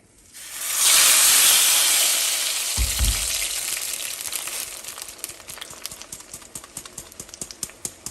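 Strained tomato poured into a saucepan of hot oil erupts in a loud, bright sizzle that swells quickly. A low thump follows, then the frying settles into a crackling hiss with irregular pops and no voices.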